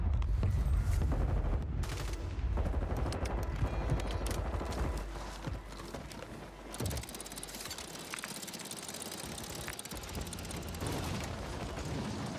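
Gunfire in the video game Warzone rings out in dense, rapid bursts and scattered shots over busy battle noise, loud and continuous throughout.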